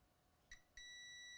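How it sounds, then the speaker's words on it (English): A multimeter in diode mode, testing the coil of a Mercedes-Benz S500 key fob, gives a short chirp and then a sustained high electronic beep at close range. "Meter in diode mode. And we want to hear a beep"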